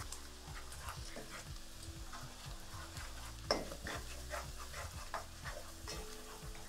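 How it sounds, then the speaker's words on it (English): A butter and flour roux cooks in a pot, with soft sizzling under repeated scraping and tapping of a utensil against the pot and one sharper clink partway through. "you want to cook the flour just for maybe a minute or a minute and a half"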